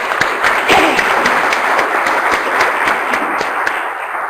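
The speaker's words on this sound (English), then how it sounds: "Let's give them another round of applause." An audience at a public meeting on Alpha 1 antitrypsin applauds, a dense steady round of clapping that holds evenly for several seconds.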